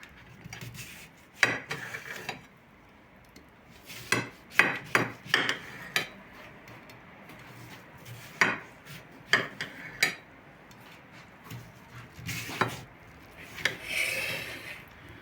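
A kitchen knife cuts through a watermelon in a series of short, sharp crunching slices, some quick bursts clustered together and others spaced apart, close and fairly quiet with no talking.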